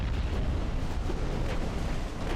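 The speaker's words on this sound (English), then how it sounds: "3 torpedo hits on Washington, and there's more coming" Torpedoes strike a battleship in the naval combat game Ultimate Admiral: Dreadnoughts, giving a continuous low, heavy rumbling roar of explosions that stays loud and dense from start to finish, with no voices.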